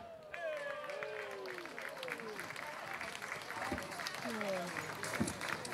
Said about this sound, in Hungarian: Nagy tapsot a segítő kezek.